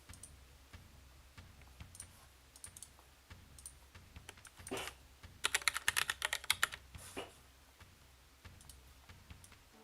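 A computer keyboard is handled and typed on at a Hellish Quart fighting-game tournament, with sparse clicks building to a brisk flurry of sharp key taps midway, then settling back to scattered presses.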